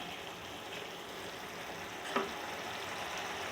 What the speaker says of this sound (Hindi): तो देखिए मसाला भून रहा है